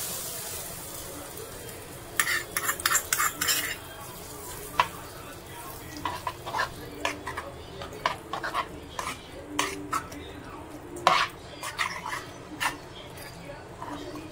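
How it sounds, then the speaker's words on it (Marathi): Spoon stirring a tempering of cumin, curry leaves and asafoetida into semolina appe batter: soft scraping and mixing strokes with occasional clinks against the bowl, a brief louder burst early on, and faint sizzle-like hiss beneath. "फोडणी व्यवस्थित मिक्स करून घ्यायची आहे"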